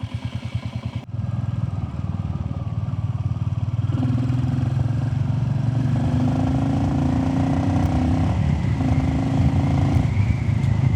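A Royal Enfield Classic 350 motorcycle fitted with a FuelX Lite and DNA air filter starts up and is ridden, its steady thumping single-cylinder engine loud and close throughout with a few changes in pitch as it pulls away.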